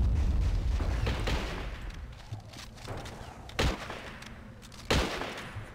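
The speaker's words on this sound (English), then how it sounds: "I start tossing grenades over." Grenades thrown in the Men of War Assault Squad 2 battle game burst in a dense, rumbling barrage of gunfire and blasts, with two sharper, louder explosions standing out near the end.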